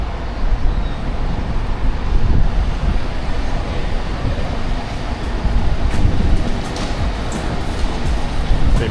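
Steady, heavy rumble of a moving train in Rio de Janeiro, Brazil, with a constant low roar and airy hiss throughout.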